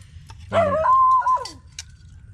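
A single dog gives a drawn-out whining yelp that rises and then slides downward, close and clear over a low background rumble, followed by a short faint squeak.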